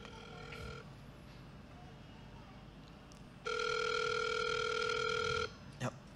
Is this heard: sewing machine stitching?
no